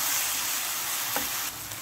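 Chicken wonton filling with chili sauce, soy sauce and Chinese salt being mixed in a pan, a steady broadband sizzle-like hiss with a single soft scrape near the end, no talking.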